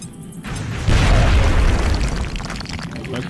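A frag grenade explodes in the tactical strategy game X-Com: Enemy Unknown, a loud, deep boom that swells after a short lead-in and rumbles on with crackling debris for a few seconds.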